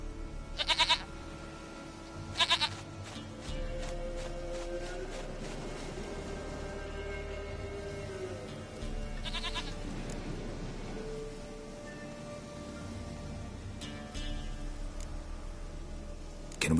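Goat bleats in The Witcher III game, with sharp calls near the start, around 2.5 s and at 9–10 s, plus a fainter one near 14 s, set over a steady low game ambience.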